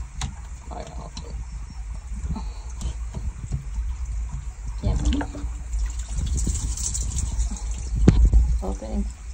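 Water running through a pool vacuum hose at a pool without a skimmer, a continuous gurgling trickle with drips and sloshes, moderately loud, under occasional brief talk.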